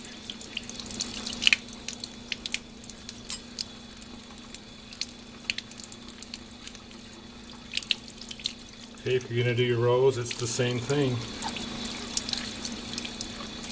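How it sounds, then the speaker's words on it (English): Water runs from a sink tap as paper is rinsed off pieces, a steady faucet stream with splashing and squishing that swells louder near the end, while a person talks over it. "Wash it off in the sink, set it right next to it."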